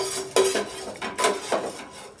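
Clattering of utensils against a metal plate as fried food is transferred onto it, a few distinct clinks and scrapes in quick succession, close by with no talking.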